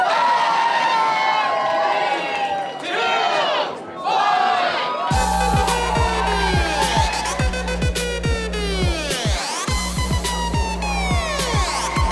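Audience at a live weird-talent competition final cheering and whooping loudly for several seconds, then heavy music with a thumping beat kicks in and carries on under the crowd.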